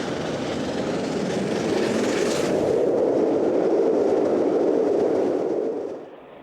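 Mallard, a steam locomotive, rolls along the rails of the Settle-Carlisle line with a steady, loud rumble and faint rhythmic clatter, then fades away at the end.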